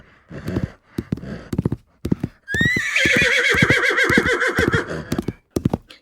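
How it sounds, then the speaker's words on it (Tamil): Horses give a long, loud whinny with a wavering pitch, set among heavy snorts and hoof clip-clops near the listener in a dramatized scene. "சில நொடியிலே குதிரைகள் கனைக்கும் சத்தமும் கேட்டது."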